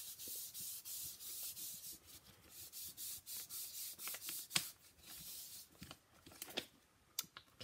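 Small gadget rubbing across a card, used to work ink off while making a masculine Valentine's Day card: steady close scratchy rubbing strokes in quick bursts, with a few sharper scrapes near the end.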